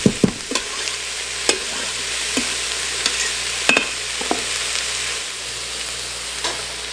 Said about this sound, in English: I'm going to add our garlic.